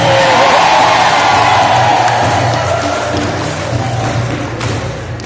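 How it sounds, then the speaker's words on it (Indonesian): Audience at a closing ceremony of a civil-service training course in East Kalimantan claps and cheers, a dense loud wash of applause with some whoops throughout, fading slightly toward the end. "Tepuk tangan semua."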